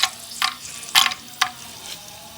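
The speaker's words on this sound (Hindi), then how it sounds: "ये फ्राई हो के फूल जाएंगे किस तरह से, ये ऐसे बन जाएंगे।" Food frying in ghee in a deep kadhai, with sharp sizzling bursts and crackles popping in a quick uneven series as the pieces puff up, close and fairly loud.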